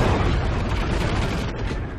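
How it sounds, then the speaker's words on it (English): A huge in-game explosion from an Easter egg weapon in the video game Extinction, a loud, dense, sustained rumbling boom filling the whole two seconds, close and forceful, with no talk over it. "It makes a huge explosion and it takes a chunk out of it."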